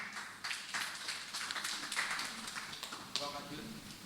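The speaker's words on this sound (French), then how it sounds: "Applaudis le Seigneur, bonne famille." A church congregation claps in praise, a steady patter of hands under a raised voice and murmurs, moderately close with a few sharper taps standing out.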